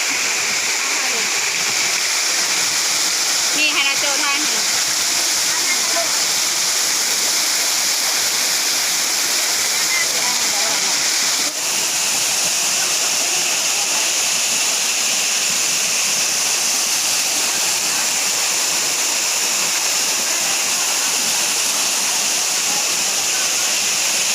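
At a zoo in Ubon Ratchathani, a waterfall gives off a constant, loud rushing hiss of falling water that stays steady throughout, with occasional faint voices underneath.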